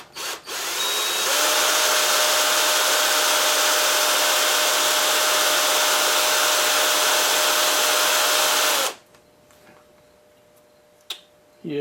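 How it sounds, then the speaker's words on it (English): A sharp reverse drill bores into an engine part during repair of a Maytag 72 engine, a steady loud high whine running about seven seconds alone before stopping abruptly, followed by faint handling noises. "This drill is a reverse drill"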